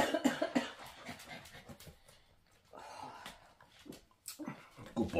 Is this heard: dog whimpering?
yes